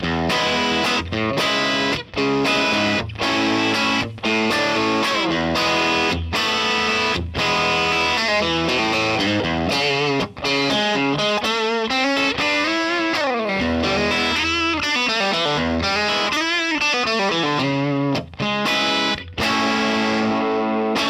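Fender Eric Johnson Virginia Stratocaster electric guitar through its bridge pickup, a slightly hotter-output vintage-style pickup, played loud and driven with distortion, with bursts of chords and quick bending lead lines separated by brief stops, no talking.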